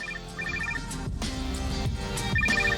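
A mobile phone ringtone plays inside a moving car, short bursts of bright electronic beeps repeating in a pattern over steady engine and road noise.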